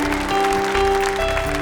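Audience in a church gathering applauding, broadband clapping over a sustained hum and tonal background, steady throughout the short stretch with no talk.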